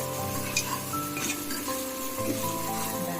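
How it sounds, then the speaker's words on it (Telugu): Plain biryani base frying and being stirred in a pan, a steady close sizzle with faint clinks of the spoon against metal throughout, no voices. "పచ్చివాసన పోయేంత వరకు మిక్స్ చేసి వేగనివ్వాలి"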